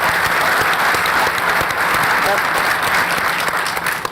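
Audience applause during a speech on national solidarity, loud, dense clapping sustained evenly across the moment.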